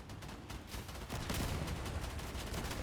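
Vehicle-mounted guns firing in the vehicle combat game Crossout, a sustained noisy rattle of rapid shots that swells louder partway through and keeps going to the end.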